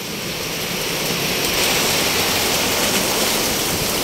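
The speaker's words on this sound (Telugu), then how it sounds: "ఇంకా పడుతూనే ఉంది వర్షం అయితే నాన్ స్టాప్గా" Heavy rain falls nonstop near a market, a dense, loud, unbroken roar of water with no gaps and no voices.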